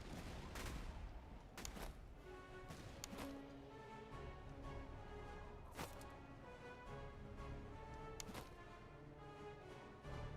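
Musket volleys crackle from ranks of soldiers in the Master of Command game, several sharp broadband bursts spread through the stretch over a continuous battlefield din of scattered shots and rumble.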